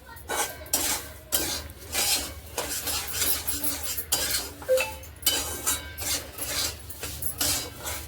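Semolina dry-roasting in a pan over low heat for sheera, stirred steadily with a metal spoon, giving continuous close scraping and clinking against the pan with no talking.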